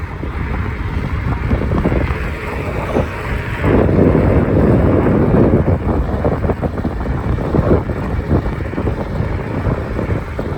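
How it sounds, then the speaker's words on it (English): Wind roars and buffets against the microphone continuously while riding an Ecotric fat tire e-bike outdoors on a cold day, with a steady low rumble that swells louder for a few seconds. "Maybe when I'm not going into the wind, it won't be so bad."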